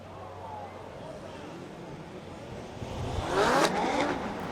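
Formula Drift cars run a sight lap on a wet Irwindale track, with a distant engine hum that swells into a nearer rising rev and whoosh of a passing car, over a soft crowd-like background.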